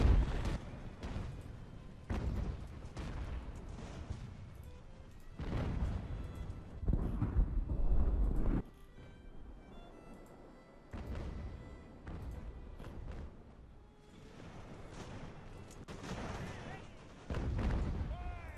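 Cannon fire from sailing warships in a naval battle game, heavy booming blasts repeating in irregular volleys, some loud and near, others more distant, with low rumbling between shots.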